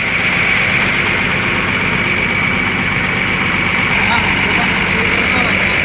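A bus engine idles steadily while it is being checked on arrival in Palembang, a constant loud drone with broad hiss throughout and no change in pitch.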